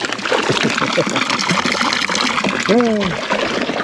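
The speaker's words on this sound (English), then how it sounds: "What's that water coming out of there?" Salt water trickles and gushes into a small boat left without its drain bungs, a continuous splashing flow heard up close with people talking over it.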